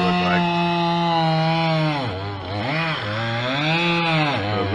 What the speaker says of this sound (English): The day after a hurricane, sunshine and chainsaw.